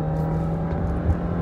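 A 2019 Volkswagen Jetta engine pulls under acceleration with a steady, smooth mid-pitched hum and whir heard from inside the car, brief and even in level.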